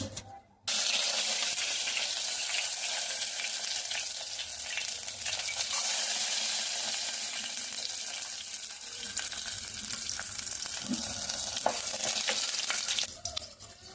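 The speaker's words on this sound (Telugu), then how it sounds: "ఇప్పుడు ఒక ప్యాన్ పెట్టేసుకొని దీంట్లో నెయ్యి వేసేసుకున్నాను. ఇప్పుడు పోపు వేసుకుంటున్నాను." Tempering spices hiss and crackle in hot ghee in a pan, a dense, loud, continuous frying sizzle after a short quiet start, with faint clinks and a few sharper pops, ending abruptly.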